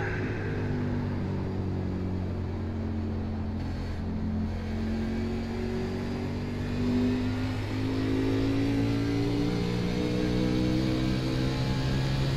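Stock car engines drone steadily in an iRacing NASCAR race at New Hampshire, a continuous layered mid-pitched roar that swells slightly as the pack runs together, with no talk.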